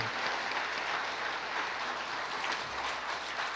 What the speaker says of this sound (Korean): 집사님을 위해서 박수 한번 합시다.